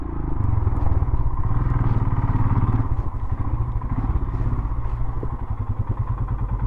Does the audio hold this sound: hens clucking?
no